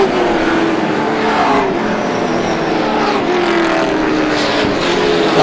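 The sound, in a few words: race cars on the Star Speedway track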